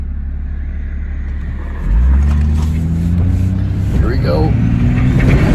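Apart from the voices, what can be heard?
car accelerating hard during test drive with D&J valve cover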